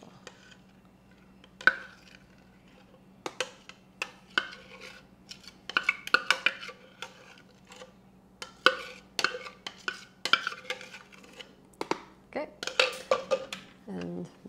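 A utensil clinks and scrapes against a bowl while deviled egg filling with butter mayo is mixed, producing irregular light taps and clatters over a faint steady hum.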